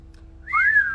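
A person whistles a single short rising-then-falling note, clear and close against a quiet background.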